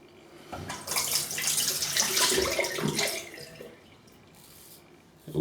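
Cold water running from a tap, a splashing, hissing stream that starts sharply, runs loud for a couple of seconds, then drops to a softer trickle before another burst near the end, close and without talk.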